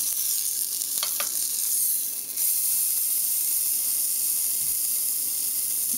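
Beef strip steak edge searing in a hot pan, a steady close sizzle and hiss of frying fat running throughout with a brief dip partway.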